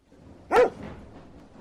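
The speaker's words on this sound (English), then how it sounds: "Dog." A single short dog bark, clear and moderately loud, followed by a faint softer tail over a quiet background.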